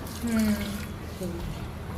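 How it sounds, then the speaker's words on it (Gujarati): Cold water pours over blanched spinach in a small bowl, a steady splashing wash heard close by under a voice speaking throughout. "અને આના ઉપર ઠંડુ પાણી રેડવાનું."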